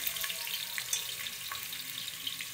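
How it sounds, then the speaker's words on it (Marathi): Chopped onion frying in oil in a pan crackles softly with a quiet, continuous sizzle and small pops, heard alone. "कांदा टाकलेला आहे. कांदा ब्राऊन फ्राय करून घ्यायचा मस्तपैकी छान."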